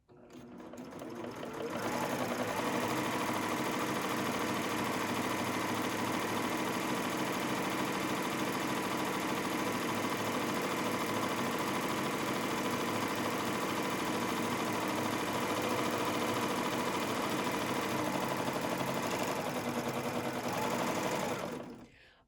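Sewing machine running steadily as it stitches a rolled edge on batik rayon for a kimono, a continuous close mechanical whir that starts after a brief pause and holds evenly for about twenty seconds before stopping.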